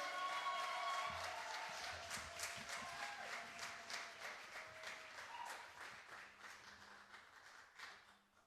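A poetry publication celebration audience applauds for a poet, a dense sustained wave of clapping that gradually thins and fades toward the end, with a few scattered voices beneath.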